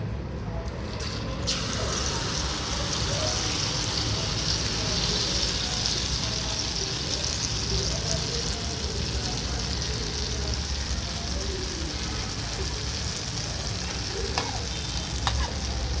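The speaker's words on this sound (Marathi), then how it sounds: "तर तूप तापत ठेवलं. तर ह्याच्यात हे मालपोहे घालूया आपण." Malpoha batter fries in hot ghee, giving a loud, steady, close sizzle that hisses evenly for the whole stretch, with faint clinks near the start and end.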